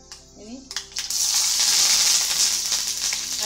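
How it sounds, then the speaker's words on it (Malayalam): Chopped onion and curry leaves hit hot oil in a pan for kalan, starting with a few clinks before a loud, steady, hissing sizzle takes over and holds close and even. "അരിഞ്ഞു വെച്ചിരിക്കുന്ന ഉള്ളിയും വേപ്പിലയും ഇട്ടിട്ടുണ്ട്"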